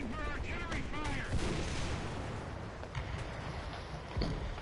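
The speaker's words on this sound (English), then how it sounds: "Requesting for artillery fire." Artillery fire in a sci-fi video game booms repeatedly as a run of heavy blasts and crackling shots over a constant roar of battle noise, with a few louder impacts standing out.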